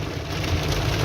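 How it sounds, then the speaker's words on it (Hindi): Heavy rain in Uttarakhand, a dense, steady hiss of downpour close by with a low rumbling undertone, continuous and loud throughout with no talking. "अभी उत्तराखंड में भयानक बारिश हो रही है।"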